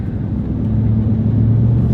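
An old, high-mileage Dodge truck rumbles past close by, a loud low engine drone lasting two seconds with no voices.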